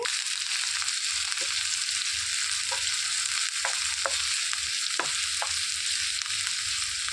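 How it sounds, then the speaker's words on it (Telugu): Sliced onions and mustard seeds fry in hot oil with a steady, hissing sizzle, punctuated by a few soft stirring clicks, close and continuous with no talking. "దీంట్లోనికి సన్నగా తరిగి పెట్టుకున్న ఉల్లిపాయలు వేసేసుకోవాలండి"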